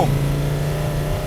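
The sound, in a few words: Volkswagen Touareg V10 TDI engine revving and shifting gear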